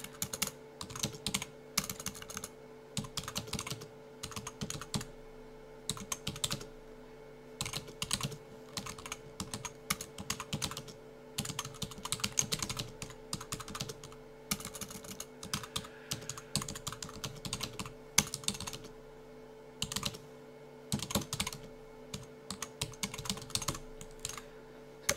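Steady typing on a computer keyboard while entering title text in video editing software, with quick runs of key clicks and short pauses, close and clear, with no voices.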